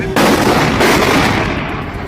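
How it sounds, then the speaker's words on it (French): Gunfire during the 2016 Turkish coup attempt, a dense loud burst of cracks and rumbling blasts that begins abruptly and carries on steadily before easing slightly, with a distant city roar beneath. "I'm not sure there's definitely gunfire"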